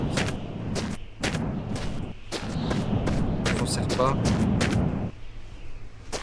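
Rapid bursts of Kalashnikov rifle fire in the video game The Long Drive crack repeatedly in short volleys over continuous game background noise, while someone talks over the shots.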